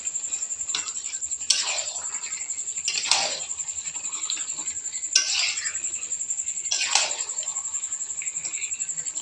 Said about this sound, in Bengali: মাংস দিয়ে আমি মাংস কষাতে থাকবো।